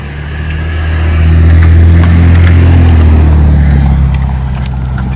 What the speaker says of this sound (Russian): Вот Мерседес едет.